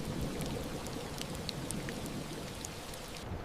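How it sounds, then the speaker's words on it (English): Heavy rain pours down steadily in a dense, unbroken hiss, with scattered louder drops striking nearby surfaces throughout. "It was a downpour."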